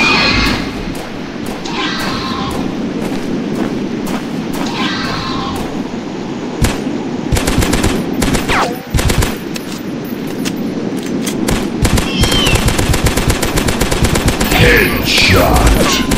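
Rapid bursts of automatic gunfire ring out in the dinosaur hunting video game Dinosaurs Hunter, loud and dense, building into sustained fusillades with thuds, and speech briefly interjects.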